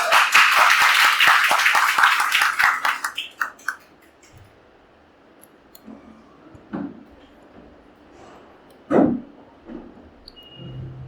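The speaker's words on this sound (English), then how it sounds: "Huge round of applause." An audience gives a stress management session a round of applause that starts loud and dense, then thins out and fades within about four seconds, followed by quiet room sounds and a few scattered soft knocks.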